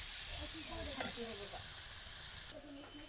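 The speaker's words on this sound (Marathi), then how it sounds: "मस्त देखील मसाला भाजून झाला आहे" Spiced masala roasts and sizzles in a pan on a gas stove while being stirred for stuffed brinjal, a steady close crackling hiss with one sharp scrape near the middle, and the sizzle drops off toward the end.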